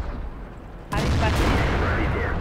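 A tank cannon fires once in World of Tanks, a sudden loud blast that cuts through the background. A rumbling roar and debris noise follow and hang on for over a second, with a voice talking over the game.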